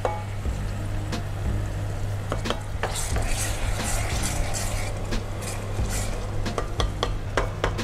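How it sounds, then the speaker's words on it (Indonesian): Beef for dendeng sizzles in about a cup of hot oil alongside a low steady hum, with occasional clinks and scrapes of a utensil against the pan. "Sekarang gua akan goreng langsung."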